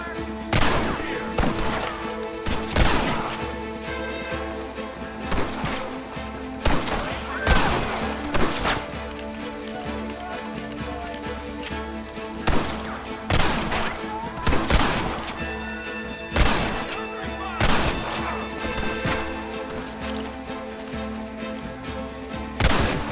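Gunfire in Red Dead Redemption on Xbox 360: repeated loud gunshots and volleys crack throughout a battle, sometimes in quick clusters, over a steady background of music and ambient noise.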